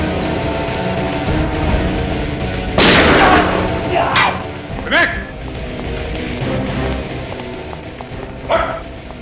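A single loud, sharp gunshot in a tense TV crime-drama scene, a broadband crack about a third of the way in, followed by scattered smaller impacts and movement over a steady musical background.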